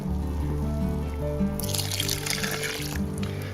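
Water pours steadily into a salt brine for homemade relish, a couple of quarts added from a container, with a brighter splashing trickle starting partway through over a constant low background hum.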